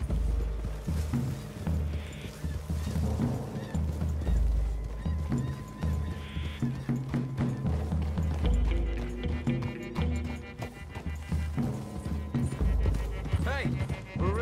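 Horses trot through woodland in Red Dead Redemption 2, steady clip-clop hoofbeats running under a music bed and occasional voices, with a brief whinny partway through.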